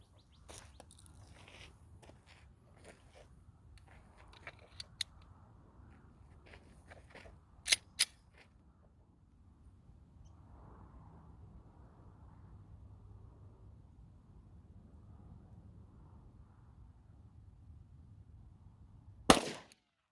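A Glock 27 pistol firing .40 S&W Hornady Critical Defense 165 grain rounds through a chronograph, two sharp close shots a fraction of a second apart, then a long quiet stretch and a third loud crack near the end, with faint shuffling in between.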